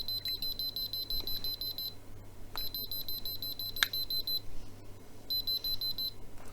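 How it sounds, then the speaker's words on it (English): A prototype Cello-I RF radiation detector with a built-in buzzer sounds three bursts of rapid high-pitched beeps, each lasting about two seconds with pauses between, fairly faint over a steady low hum. "This is a prototype of another version of the Cello-I. This version has a buzzer."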